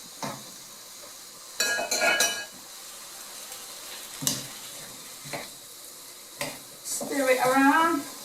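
About three teaspoons of store-bought curry paste frying in a pan for chicken curry, with intermittent scraping and clinking strokes of a stirring utensil over a low sizzle; a brief voice is heard near the end.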